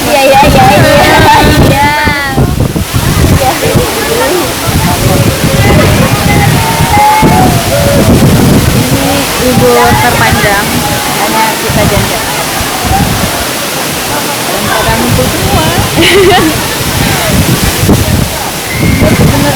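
Rushing water of the Curug Bidadari waterfall, a loud continuous roar close by, with voices talking over it throughout.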